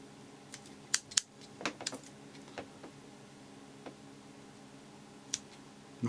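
Small scissors snip material on a fly-tying vise, giving a series of crisp, close clicks at irregular intervals over a soft steady background hum.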